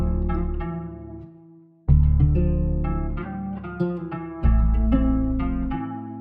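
A clean guitar melody with warm reverb, sustained notes ringing out and blooming into a roomy tail, pausing briefly before the phrase resumes.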